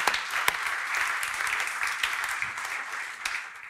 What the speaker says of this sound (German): Das ist nochmal Ihr Applaus.